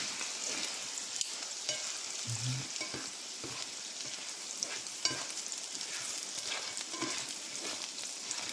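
Paneer cooked with honey fries in a pan with a continuous crackling sizzle, punctuated by occasional light clicks and stirs, with no voices.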